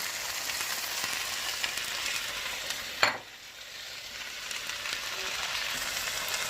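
Eggs fry in a hot pan alongside noodles for Thai drunken noodles, with a continuous soft sizzle and one sharp scrape or clatter midway. No voices.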